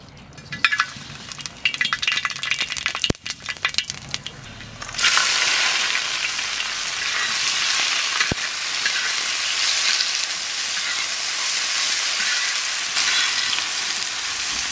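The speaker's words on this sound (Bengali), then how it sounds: "তেলের উপর দিয়ে দেব গোটা গরম মশলা" Whole garam masala hits hot oil while cooking mutton for dum biryani, a few clinks and clatters giving way to a loud, steady sizzle of frying that continues to the end.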